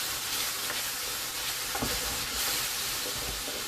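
Spinach, okra, country ham and neck bones cook in a pan on an electric cooktop, giving a steady close sizzle and hiss that runs unbroken, with a few faint stirring clicks and no talking.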